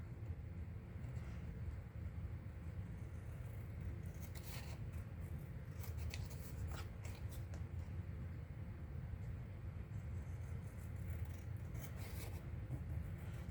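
Scissors trim the edges of a paper belly band, a few quiet snipping and rasping cuts that come in short clusters over faint steady background hiss.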